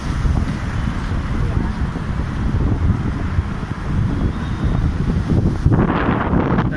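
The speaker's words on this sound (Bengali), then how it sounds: "প্রচণ্ড বাতাস হচ্ছে।" Strong wind at the Marine Drive seafront in Mumbai, roaring and buffeting hard against the microphone in a continuous low rumble that swells briefly near the end.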